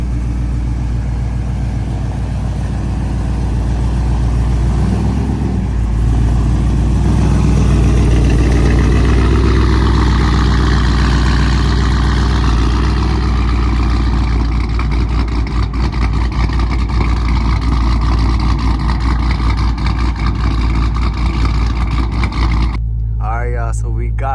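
A supercharged Hemi car engine hums and rumbles steadily from inside the moving vehicle, with a voice speaking over it throughout before it cuts off.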